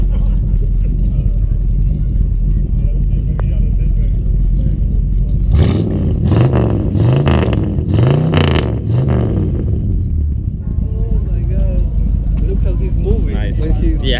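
Car engines revving at a meet: a run of sharp, loud throttle blips in quick succession, rising and falling, heard up close over steady crowd noise and voices, which continue after the revving stops.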